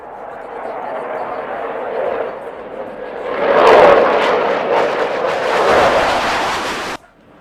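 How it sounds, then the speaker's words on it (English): Jet display aircraft performing a series of rolls at the Aero India 2025 air show at Yelahanka, Bengaluru; a broad roar swells loudly through the second half and then cuts off, beneath ongoing announcer commentary. "the aircraft is coming in for a series of neatly crafted rolls"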